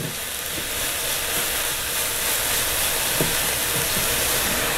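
Egg frying in a pan with kale, giving a steady, loud sizzle that hisses and crackles throughout without a break.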